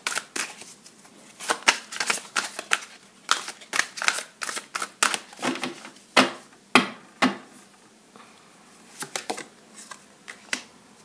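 Tarot cards shuffled and drawn by hand, a rapid series of close, crisp flicks and slaps in irregular bursts, pausing briefly before a few final snaps.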